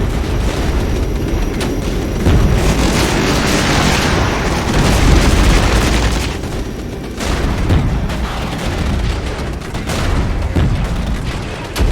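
Artillery shells burst in the Regiments war game, a dense run of deep booms and rumbling explosions layered over each other, loud and continuous with scattered sharper cracks.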